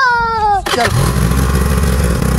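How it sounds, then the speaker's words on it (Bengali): A motorcycle carrying three riders runs with a loud, steady engine drone and wind rumble, close up, cutting in abruptly after a brief high tonal sound at the start. "আমরা এখন বাইকে যাচ্ছি"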